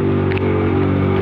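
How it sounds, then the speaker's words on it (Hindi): A tractor engine running nearby on a rural road, a loud, steady low diesel drone with strong harmonic hum throughout. "तो फिलहाल ट्रैक्टर हो रहा है पीछे।"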